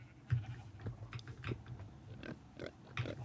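Pigs in the Minecraft video game grunt and oink in short, repeated snorts at low volume, a few close together with small pauses, with no talking.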